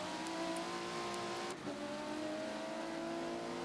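A race car in a racing video game at Brands Hatch drones steadily with a sustained engine tone, rising and shifting pitch as it revs, with a brief dip midway.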